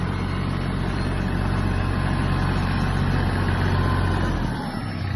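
A tractor towing a trailer while manoeuvring, its engine droning loud and close at a steady low rumble before easing slightly at the end.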